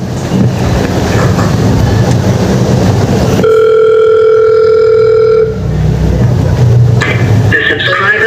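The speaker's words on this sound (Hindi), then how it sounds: "एक काम करती हूँ, प्रिया मैम को ही फोन कर लेती हूँ।" A phone call connects with a steady electronic call tone lasting about two seconds, clear and loud, set between stretches of busy background noise.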